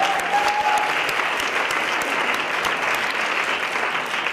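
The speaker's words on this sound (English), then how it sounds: "Can we just do like another round of applause just for everybody?" An audience at the Boston Cultural Council 2019 grantee reception applauds steadily, a dense, loud wash of many hands clapping that holds evenly throughout, with a brief whistle near the start.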